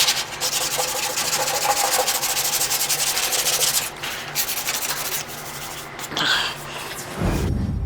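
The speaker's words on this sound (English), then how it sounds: "Gone over it one time with Prep-Sol, with single rag, just getting everything rubbed down" Rag rubbing down a car body with Prep-Sol, a continuous close scrubbing swish with a brief pause and shift in stroke near the end.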